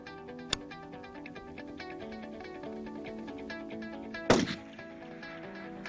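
A single .308 rifle shot cracks sharply, then a second loud impact rings out from a steel target at long range, both standing above a steady background hum.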